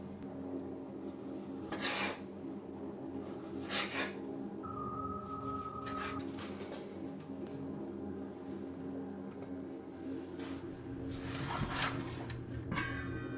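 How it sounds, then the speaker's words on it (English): A knife slicing pickles in a home kitchen, a series of quiet rasping strokes spaced a couple of seconds apart, with a low room hum underneath and no talking. "If your pickles aren't already sliced, slice them."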